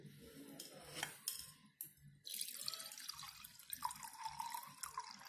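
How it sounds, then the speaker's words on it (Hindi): Water poured into a clay handi pot: a few light clinks and splashes, then a steady close stream that fills the vessel, its tone rising as the pot fills, quiet overall. "ये हंडी में इस तरीके से पानी डालेंगे"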